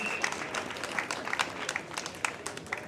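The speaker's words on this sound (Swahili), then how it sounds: "Wewe, wapi makofi ya kiongozi jameni?" An audience at a Mombasa safer campuses campaign event applauding a student leader, a dense, even patter of many hands clapping at moderate distance for a few seconds.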